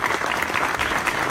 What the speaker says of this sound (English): let's have one more round of applause for the winner of this year's Car of the Year award